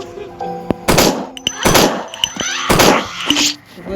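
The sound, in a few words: shotgun firing in the video game Endless Nightmare 2: Hospital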